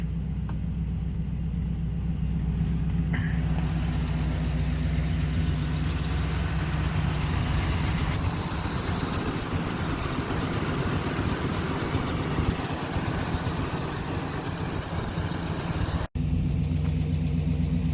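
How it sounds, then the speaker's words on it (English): A 1975 Lincoln Continental Town Car idles steadily with a deep, loud aftermarket exhaust rumble, heard close and unbroken for a long stretch with no talking. "previous owner put on a new exhaust system that's a little bit louder than I would prefer on a car like this"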